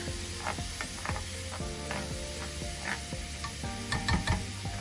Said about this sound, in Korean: 이렇게 넣고 잘 끓여줍니다